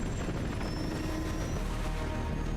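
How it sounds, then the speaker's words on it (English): Helicopters fight it out in an action scene from Mission: Impossible – Fallout, a loud, dense roar of rotors and engine rumble that holds steady from start to finish without any speech. "Helicopter battle."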